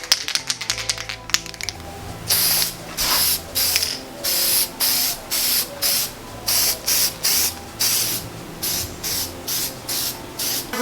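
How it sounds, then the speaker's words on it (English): Permatex copper gasket spray is sprayed from an aerosol can onto engine gasket surfaces while fitting LS1 cylinder heads, a series of about a dozen short loud hissing bursts after some opening clicks and handling sounds. "we decided that we're going to spray some of this Permatex copper spray on here"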